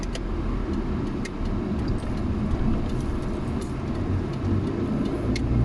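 Car driving on a temple trip in Thailand, a steady loud low rumble of engine and road noise filling the cabin throughout, with no speech.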